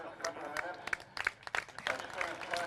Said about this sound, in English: Round of applause from all the folks here